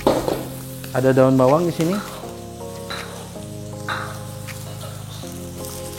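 Egg and garlic frying in a wok for fried rice, a steady hiss and sizzle under a person talking, with occasional scraping stirs and faint musical tones in the background.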